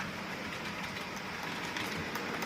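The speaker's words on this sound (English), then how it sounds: "the little diesel rail car coming out of the tunnel now" Model diesel rail car on a layout emerging from a tunnel, giving a steady, continuous rolling rumble with faint clicking of wheels on track, close and even throughout with no talk.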